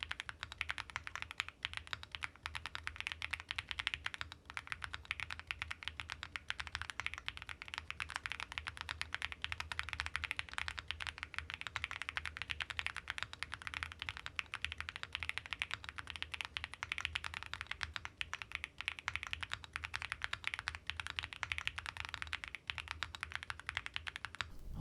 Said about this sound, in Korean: 이제 타이핑 사운드 여러분께 들려드리도록 할게요